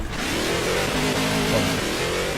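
A NASCAR race car engine in a video game revs loud and steady, its throaty mid-pitched drone holding continuously without a break.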